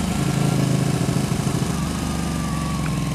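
A Ducati 1199S Panigale motorcycle engine runs close by in a loud, steady, throbbing idle with a slight change in pitch partway through.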